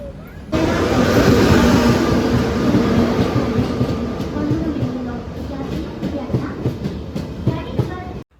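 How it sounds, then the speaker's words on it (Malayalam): A train rumbles loudly and continuously nearby at a railway station, with rhythmic clacking of wheels on rails and a faint voice underneath. "യെസ്, ഞങ്ങൾ ട്രെയിനിൽ കയറി"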